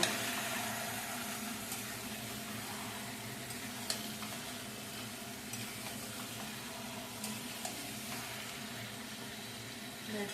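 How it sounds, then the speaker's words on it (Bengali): Mutton pieces cooking down in a spice masala in a pan, a continuous low sizzle with occasional stirring scrapes and small pops, steady and moderately quiet throughout, no voices. "এখন আমি মাংসটাকে খুব করে কষিয়ে নেব।"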